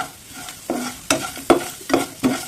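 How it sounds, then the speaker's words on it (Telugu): Okra being fried and stirred in a pan with turmeric, salt and chili powder, the spoon scraping in repeated strokes about every half second over a steady sizzle, close and fairly loud. "కొద్దిగా వేపుకోండి."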